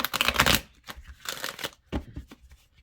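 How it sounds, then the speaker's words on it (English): A deck of oracle cards, a little sticky, is shuffled by hand in a few close riffling bursts separated by short pauses. "let's see if I can shuffle a little bit better this time"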